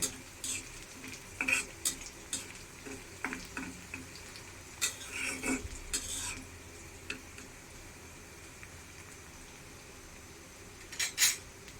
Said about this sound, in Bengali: এই যে সাইড দিয়ে পেঁয়াজটা লাল লাল হয়ে গেছে, যদি এখন নাড়া না দেই তাহলে সাইড দিয়ে পুড়ে যাবে, এর জন্য আরেকবার নেড়ে দিব